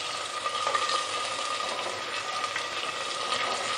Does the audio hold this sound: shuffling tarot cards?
no